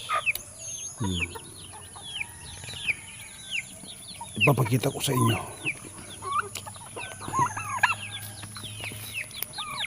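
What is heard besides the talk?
chickens clucking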